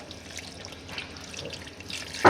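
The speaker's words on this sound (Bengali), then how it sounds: "একটু সামান্য পানি দিই" A small splash of water poured into a cooking pot of beef on the stove, a short soft trickle and pour that ends in a louder burst of splashing near the end.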